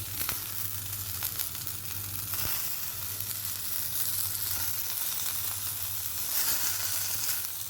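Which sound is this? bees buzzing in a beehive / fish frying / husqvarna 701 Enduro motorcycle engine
fish frying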